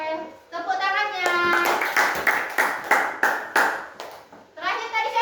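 Children in a classroom clap in a quick rhythmic pattern, sharp bursts of hands chanting along, with young voices speaking before and after the clapping.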